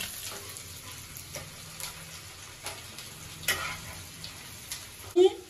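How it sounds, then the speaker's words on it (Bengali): Five-spice seeds, green chillies and chopped onion dropped into hot oil in a kadai, a quiet steady sizzle with scattered crackles and a sharper clatter near the end. "এবার আমি তেলের মধ্যে পাঁচ ফোড়নগুলো দিয়ে দিচ্ছি কাঁচা লঙ্কা, পেঁয়াজ কুচোগুলো"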